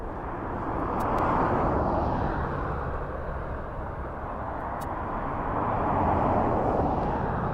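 A Ryanair jet takes off at an airport bound for Limoges, a loud, steady broadband roar of engines that swells twice as it passes, with no talk over it.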